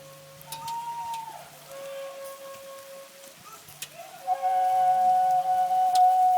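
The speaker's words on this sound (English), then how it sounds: "got a lashing of rain then." Heavy rain pours onto an outdoor barbecue where a chicken curry is cooking, a steady hiss of drops that swells louder toward the end, with a few faint whistling tones drifting over it.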